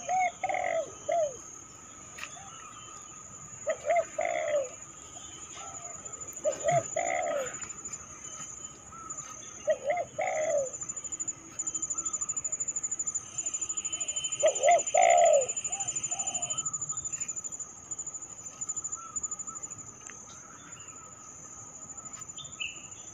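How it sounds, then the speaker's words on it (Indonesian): Soft, repeated dove cooing close by, in short phrases every few seconds, over a steady high insect buzz and faint chirps from other birds. "Suara perkutut"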